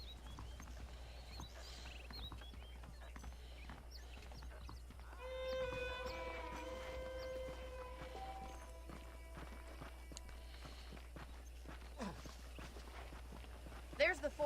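Horse hooves clip-clopping at a walk in Red Dead Redemption, a steady soft rhythm under a man's speech and a low ambient hum, with a brief musical tone in the middle.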